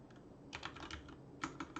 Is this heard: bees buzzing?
no